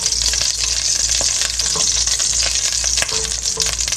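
Olive oil goes into a hot pan for tomato sauce, making a loud, steady sizzle and crackle with a few scraping clicks and a low hum underneath, with no talking.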